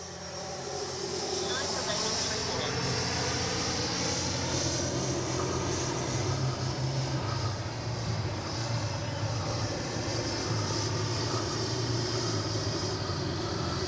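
FMS Avanti S 90mm electric ducted-fan RC jet in flight: a continuous loud whining roar with a shifting pitch as it passes, steady for the whole stretch, with a voice faintly underneath.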